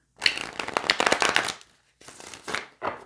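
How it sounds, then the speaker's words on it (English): Tarot cards are shuffled close by, a quick riffle of flicking clatter followed by two shorter shuffling bursts after a brief pause. "I will also shuffle more"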